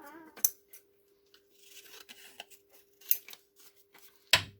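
Close snipping and rustling of scissors cutting through material, with several crisp cuts and scraping sounds, ending in a louder clack.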